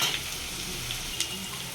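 Cumin, mustard seeds, onions and dried chillies fry in hot oil, giving a steady, close sizzle with a few small pops and no voices.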